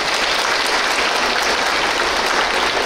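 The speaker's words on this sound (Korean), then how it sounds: "범준 스님께 큰 박수 주십시오" An audience at a Buddhist dharma talk at the 2024 Korea Buddhist culture expo applauds steadily, a dense, loud wash of clapping that holds evenly for about three seconds with no one speaking.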